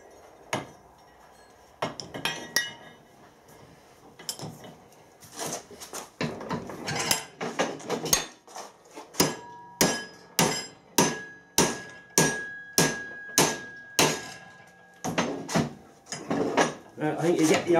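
A hammer repeatedly strikes a MIG-welded steel test piece from a crankshaft repair, giving a long series of sharp metallic clangs that settle into a steady, forceful rhythm of loud, ringing blows.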